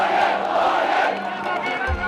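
A large crowd of protesters in Myanmar shouting together, a dense, loud roar of many voices held throughout with no single speaker standing out.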